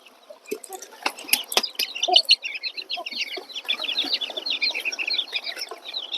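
Chickens cluck and chirp steadily beside their cage outdoors, a busy layered flock chatter with scattered sharp knocks and wing flaps, fairly close and continuous.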